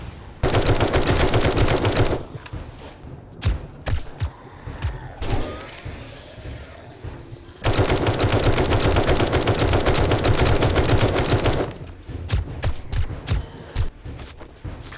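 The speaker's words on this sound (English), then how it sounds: "Maybe it's time for the auto shotgun because the floor is breaking before the zombies die." Auto shotgun fire in the video game 7 Days To Die, loud repeated bursts of rapid blasts in two long volleys separated by scattered single shots, with game noise between.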